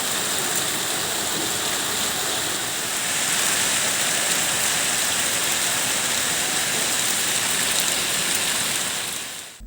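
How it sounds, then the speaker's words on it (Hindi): Heavy rain falling steadily, a dense, even hiss of drops that stays loud and unbroken from start to finish, with no voices. "से फिर से बारिश का सिलसिला शुरू हो गया है"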